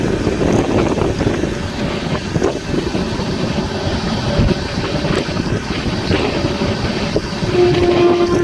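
The Venkatadri Express running past Umdanagar toward Kacheguda, a loud continuous rolling rumble with rattling and wind buffeting, no voices, and a brief tonal whine near the end.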